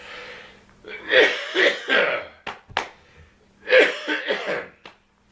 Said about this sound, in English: I've just had this cough for a while